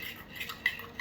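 Spoon stirring a thick coffee-and-honey face mask in a small bowl, giving soft scraping and clinking taps with one sharper clink, alone and close.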